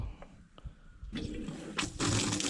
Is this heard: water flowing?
yes